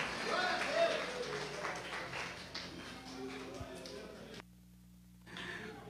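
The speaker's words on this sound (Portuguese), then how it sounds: "Dá uma salva de palmas para o nosso Jesus nesta noite." A church congregation at the closing service of a men's congress claps in a dense, steady wash of applause. Someone speaks over the clapping, which drops away abruptly near the end.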